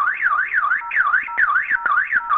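Titan security alarm system set off from a key fob, sounding a loud, close electronic siren that sweeps up and down repeatedly in steady cycles with no talk over it.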